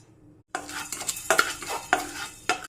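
Peppercorns roasting in a dry pan for homemade sambar powder, with a spoon stirring and scraping through them in several brisk bursts, close and clear with no talking.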